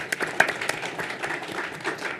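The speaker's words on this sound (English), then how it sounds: "Give them a round of applause." A round of applause at a combined public board meeting for staff standing to be recognized: scattered, moderately loud hand claps from a modest audience in a room, fairly brief and uneven.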